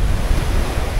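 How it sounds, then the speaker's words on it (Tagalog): Sea waves wash onto the shore at Barangay Santa Maria in Presentacion, Camarines Sur, with steady wind buffeting the microphone, a continuous loud rush with no voices. "ang ganda ng paligid ng dagat"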